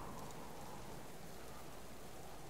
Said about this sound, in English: we're getting cold, and it rains, then yeah, it kills our fire